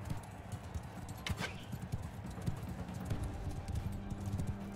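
Horse hooves clip-clop steadily in the medieval battle game Mount & Blade II: Bannerlord, a busy rapid patter of strikes under a constant rumbling battlefield bed, moderately quiet and continuous.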